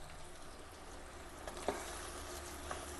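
Country chicken curry simmers in masala with tomato, giving a soft, steady sizzle and bubbling with a few faint clicks, heard alone and fairly quiet.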